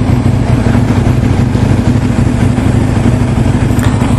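Motorcycles riding past on a dual carriageway in Brighton give a steady, loud engine drone with low rumble throughout, passing on the far side of the road with no voices.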